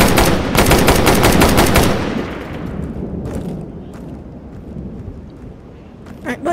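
Rapid automatic gunfire from Tactical Assault VR multiplayer rattles loudly in a dense burst for about two seconds, then single shots crack more faintly and sporadically, with a closing couple of nearer shots; voices talk faintly underneath.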